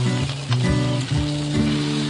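A salmon fillet fries skin side down in a hot pan, giving a steady close sizzle and crackle that runs throughout, with a low humming tone underneath and no talking.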